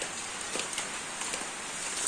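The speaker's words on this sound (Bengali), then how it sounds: "শুরু হয়ে গেল টিপ টিপ বৃষ্টি" Light drizzle of rain falls in a village setting, a steady soft hiss with scattered faint droplet ticks, continuous and fairly close throughout.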